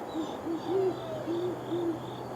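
Five soft, low owl hoots spaced about half a second apart, steady and fairly close, over a quiet night background.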